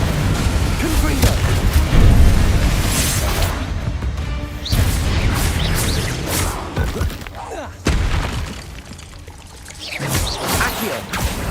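Confringo blasting spells explode in Hogwarts Legacy, loud booming bursts and crashes with whooshing debris at irregular intervals, with voices speaking under the action.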